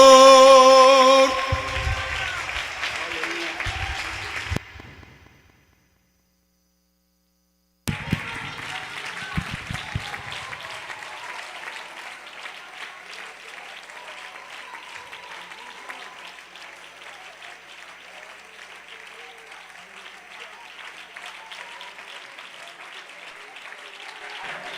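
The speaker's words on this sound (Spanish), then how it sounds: "Sígale aplaudiendo, sígale reconociendo." Congregation applause fills a church convention service hall, a dense, sustained clapping that breaks off into a few seconds of silence, then resumes steadily and keeps going for the rest of the time, with voices mixed into the crowd.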